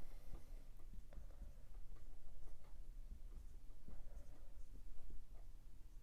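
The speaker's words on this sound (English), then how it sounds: "So let's go ahead and draw what we would get." A pen scratches and taps across paper while a chemistry structure is drawn, giving irregular soft ticks and strokes over a low steady hum, close and quiet.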